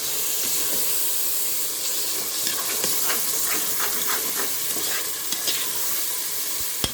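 Tomato and curd sauté in a pan for country chicken biryani with a constant hissing sizzle, and a spoon stirs and scrapes through it with scattered clicks.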